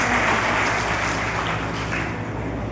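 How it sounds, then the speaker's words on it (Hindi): An audience at a public event in Sitapur claps for a guest YouTuber, a dense, continuous burst of applause that is close and fairly loud throughout. "एक बार प्लीज इनके लिए तालियां"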